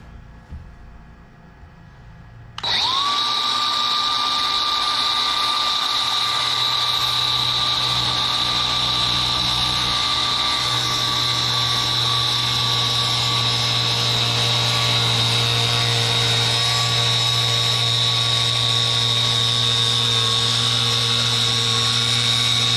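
A power tool starts up abruptly after a quiet moment and runs loud and steady, a sustained whining drone cutting through material at close range, with no talking.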